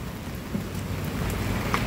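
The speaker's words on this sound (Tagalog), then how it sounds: "Ang lakas ng ulan dito ngayon." Heavy rain pours steadily during a downpour in Thailand, a dense, even hiss of drops drumming on surfaces, with no voices over it.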